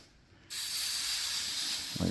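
Steam hisses onto damaged wood in a sudden, loud, steady rush that starts abruptly and carries on unbroken, with a faint thump near the end.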